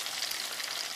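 Steady, dense crackling sizzle of bacon frying in a pan, continuous and close with no pauses.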